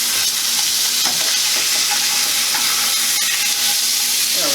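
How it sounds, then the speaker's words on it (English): Chicken frying in a hot pan gives off a loud, steady sizzle and hiss, close up, with faint scrapes of stirring and no talking. "So the chicken's starting to get some good sizzle."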